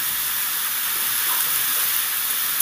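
Beetroot and carrot frying in a pan with salt and turmeric, a steady, even hiss of sizzling that continues without a break, fairly loud and close.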